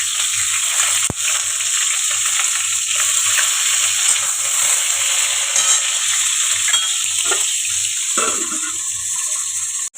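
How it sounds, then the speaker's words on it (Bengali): Pointed gourd fries in hot oil in a wok, giving a loud, continuous sizzle with occasional stirring scrapes and no voices. "তেলটা গরম হয়ে গেছে। আমি পটলটা ভেজে নেব আগে।"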